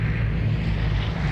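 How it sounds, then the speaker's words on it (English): A plane in the video game Vigor drones steadily overhead at night, a continuous low engine rumble with no break. "as the plane flies overhead."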